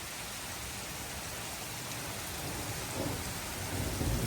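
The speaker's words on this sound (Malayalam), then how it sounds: "ഇടി വെട്ടണ സൗണ്ട് കണ്ടാ കേക്കണ്ട നിങ്ങള്?" A rainstorm in Oslo pours as a steady broadband hiss, with a deep thunder rumble swelling low near the end, close and fairly loud with no voices.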